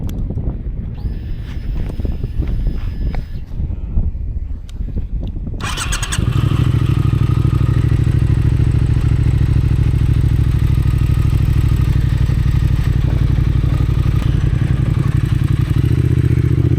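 A Triumph Speed Twin 1200 motorcycle fires up and pulls away, a deep, loud, close engine rumble with wind buffeting the microphone, following several seconds of quieter clatter and handling noise.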